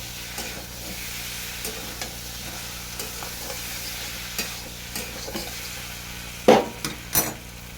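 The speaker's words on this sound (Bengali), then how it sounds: "আবার এভাবে নেড়ে চলে যাবো আবার এইভাবে কষে নেব" Fish and broad beans sauté in oil with turmeric. A spatula stirs them in a pan with a low, steady sizzle, and several sharper scraping knocks come near the end.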